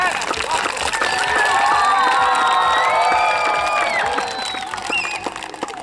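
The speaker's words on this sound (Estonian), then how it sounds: "tehke nüüd oma emadele, isadele ka üks hästi suur aplaus ja" Parents and relatives at an under-8 youth football cup ceremony give a big round of applause with cheers, whoops and children's shouts, loud and sustained, easing slightly near the end.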